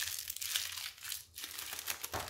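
Plastic packaging wrapper being crumpled by hand, close and crisp, with a run of crinkling bursts and a louder crunch near the middle.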